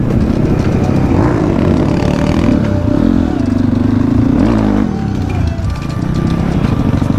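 Dirt bike motorcycle riding on a dirt track, a loud, close engine droning steadily with rising and falling revs throughout.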